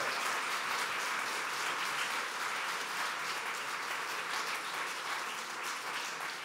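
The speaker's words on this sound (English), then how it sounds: "One more round of applause, please." An audience applauds after an opera performance by the American Opera Project, broad even clapping that holds steady throughout with no talk over it.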